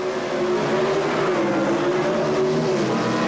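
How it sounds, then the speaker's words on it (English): A 1973 Camaro with a highly stressed, high-winding 278-cubic-inch small-block Chevrolet engine at a drag race, a loud, steady, raspy engine roar with a sustained high-pitched drone, close and continuous with no talk. "McGrew's '73 Camaro has a small block Chevrolet, 278 cubic inches, highly stressed, high horsepower, high winding engines"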